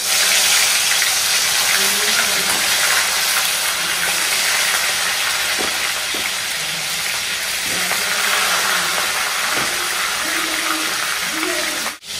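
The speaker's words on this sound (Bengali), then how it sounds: "কাঁকড়াগুলো নুন হলুদ মেখে নিয়েছি, এরপর একটু তেলে ভালো করে ভাজবো।" Crabs rubbed with salt and turmeric fry in hot oil with a steady, loud sizzle and hiss, while a voice talks over it.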